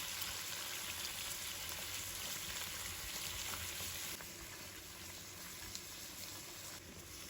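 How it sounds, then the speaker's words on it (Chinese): Squid sears in a hot wok over high heat, a loud, steady sizzle that crackles throughout and eases slightly partway through. "烧热后把鱿鱼倒入锅中"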